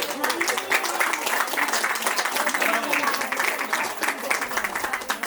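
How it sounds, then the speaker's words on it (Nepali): Audience at an annual temple honors program for a kirtan group applauds steadily throughout, a dense, sustained wash of clapping from a sizeable crowd with no pauses. "जोरदार तालीले सम्मान गरौँ।"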